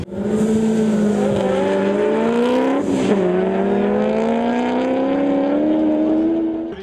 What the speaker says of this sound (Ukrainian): Заїзд цієї автівки зриває фурор глядачів.